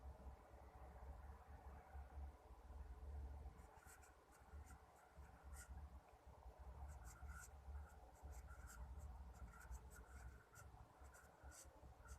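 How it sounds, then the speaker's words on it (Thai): Pen writing on paper at a desk: a steady scratching and rubbing that runs continuously, with brief faint marks over low background noise. "เดี๋ยวผมจะ วิเคราะห์ลงกระดาษนะฮะเพื่อความชัดเจนและดูง่ายขึ้นนะฮะ"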